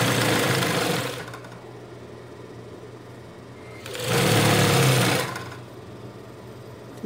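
An industrial sewing machine stitches around both sleeves of a men's tank top in stretchy knit fabric, in two loud mechanical bursts of about a second and a half each, with a quiet room in between.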